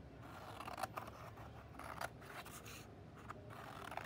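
Scissors snipping paper strips for a paper weaving warp, a quiet irregular run of short cuts and light rustles, close up, with no talking.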